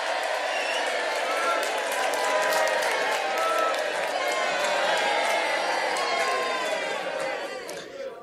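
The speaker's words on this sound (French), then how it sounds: "on va applaudir un petit peu là quand même" Studio audience at a French radio Bible-quiz broadcast claps and cheers, a dense steady patter of hands with a few whoops lasting about eight seconds, voices murmuring underneath.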